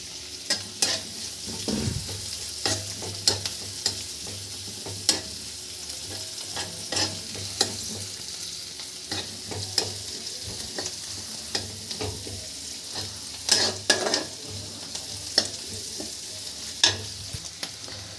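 Vegetables fry in a pan for egg chicken chow mein with a constant sizzle over raised flame while a spatula repeatedly scrapes and taps the pan in an uneven rhythm, close up with no talking.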